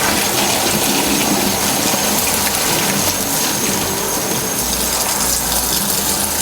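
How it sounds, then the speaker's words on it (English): Cloudy pork bone soup is poured out of a pot into a sink, a loud, sustained splashing gush of liquid heard close up with no talking. "We're gonna start pouring out this nasty soup."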